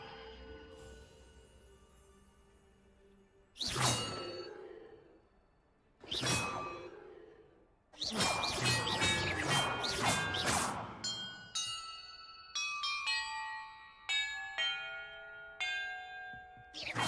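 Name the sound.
bells ringing in a puzzle, Hogwarts Legacy video game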